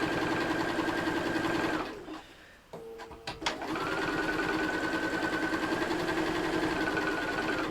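A sewing machine stitching a fabric book pouch on a very small stitch length whirs steadily and close, stops for about two seconds amid a few clicks and handling noises, then resumes its even running.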